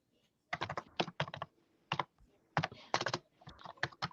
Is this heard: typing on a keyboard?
yes